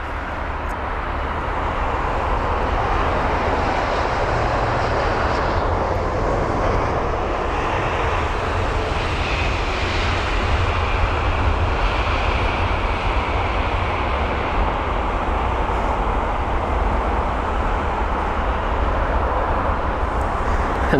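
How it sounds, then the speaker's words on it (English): An Iberia jet airliner lands at London Heathrow, its engines producing a loud, steady roar with a broad rumbling hiss that holds for the whole stretch, with no talk over it. "Here's the Iberia jet."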